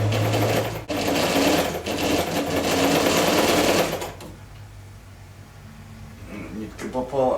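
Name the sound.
Saalfeld (Knoch) German straight-stitch sewing machine sewing fabric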